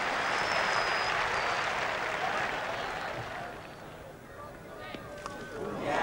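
Distant cricket crowd applause swells then fades over a few seconds as the crowd rises for a hundred partnership, with a voice talking over it near the end.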